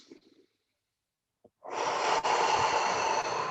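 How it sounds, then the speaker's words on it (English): Slow deep breathing into the belly: a faint short breath and a brief pause, then a long, loud, close-miked rushing inhale that continues steadily to the end, with no speech. "Breathe deeper. Deep into the belly."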